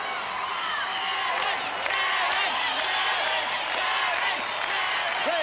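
A large arena crowd at an Australian Gladiators event cheers and claps continuously, a dense wash of noise with occasional whoops rising above it.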